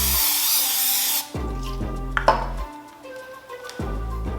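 A steady hiss of cooking spray from an aerosol can into a 9 by 13 inch casserole dish lasts just over a second, followed by a few soft knocks and clinks.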